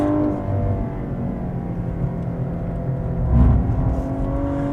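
A Cadillac ATS-V sedan's engine drones steadily from inside the cabin while driving, a continuous low hum that swells briefly partway through before settling back.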